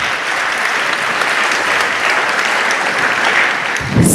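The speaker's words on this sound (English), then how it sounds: "Please let's give him another round of applause." Steady, full applause from a large crowd at a Kenyan national youth forum, dense clapping sustained throughout and swelling slightly at the very end.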